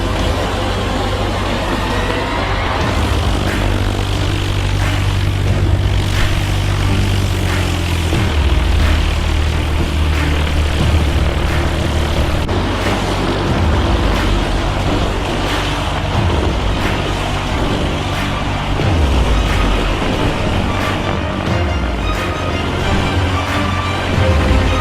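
Propeller airplanes at an EAA fly-in in Ocala, Florida drone steadily and loudly throughout, a continuous low engine roar with shifting pitch as aircraft run up and pass nearby.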